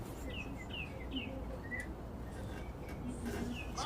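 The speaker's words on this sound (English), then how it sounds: "Got that little bird right there." A small wild bird visiting a chicken yard gives several thin, high chirps at a moderate distance, scattered over a constant low outdoor hum.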